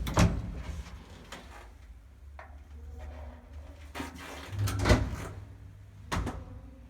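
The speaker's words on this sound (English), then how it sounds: "Close the doors." Old-fashioned doors on a tiny elevator in Italy are pulled shut, giving several sharp metallic clanks and knocks spaced over a few seconds against a low hum.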